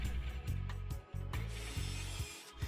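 Rhythmic ratcheting whirs of screws driven through a plywood cabinet into wall studs, several bursts with short pauses between, close by and mechanical, with a faint woody creak.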